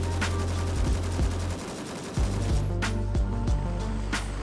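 A rifle with a muzzle brake fires on full auto in the video game Gray Zone Warfare, giving sustained rapid bursts of loud, close gunfire with a short break partway through.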